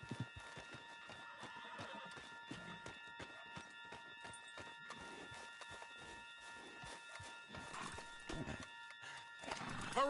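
Horse neighing with clip-clopping hooves in the video game Red Dead Redemption 2, a steady run of hoofbeats under a faint whinny, quiet and without speech.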